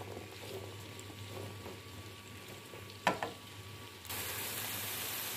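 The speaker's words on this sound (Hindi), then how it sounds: "और भिंडी को 5 से 10 मिनट के लिए फ्राई कर लूंगी।" Sliced okra (bhindi) fries in a pan, giving a steady soft sizzle and bubbling hiss, with a brief stirring scrape near the middle and a louder, brighter sizzle for the final second.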